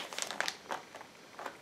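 A plastic bag crinkles close up while candles are unpacked, with soft scattered rustles and crackles in short bursts, quiet and without speech.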